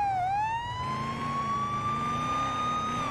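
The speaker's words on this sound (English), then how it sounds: "Lights and sirens." A police car siren wails in the Police Simulator: Patrol Officers game, one steady rising and holding electronic tone, loud and close over a low engine rumble.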